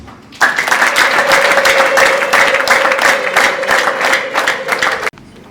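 Wedding guests clap their hands in a loud, steady burst that lasts about five seconds and then cuts off abruptly, with ululation-like tones riding above the clapping.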